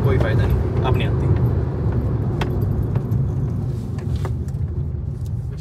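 A Fronx Turbo crossover accelerates in a drag race against a Virtus TSi sedan, heard from inside the cabin as a low, steady engine rumble under excited talk, with a light jangle of keys.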